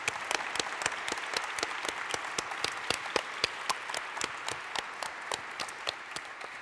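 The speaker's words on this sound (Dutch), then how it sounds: "wil ik een hartelijk applaus voor Marco Kroon voor vanavond" Scattered, distinct claps from a small audience at a school college-tour evening with Marco Kroon, sounding fairly faint and somewhat distant, each clap clearly separate.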